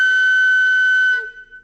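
A clay ocarina blown hard gives one loud, steady, piercing high whistle that holds for just over a second and then cuts off, with a faint breathy tail after.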